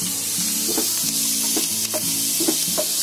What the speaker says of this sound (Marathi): आता ही जरा आपण फ्राय करूया.